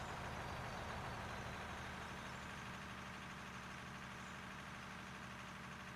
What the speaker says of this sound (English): you can hear the haul truck coming.